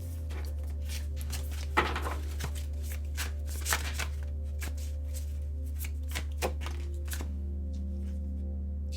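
Quiet riffle shuffling of a deck of cards, a run of crisp flutters and snaps with a few sharper slaps, close up and alone over a low steady hum.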